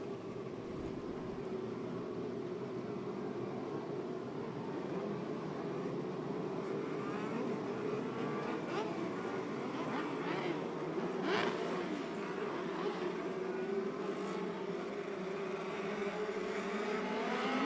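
Race cars at Clyde Martin Memorial Speedway during a 600 feature, accelerating down the back straightaway toward a restart: a steady, distant roar of many engines, rising slightly in pitch and intensity, with no talk.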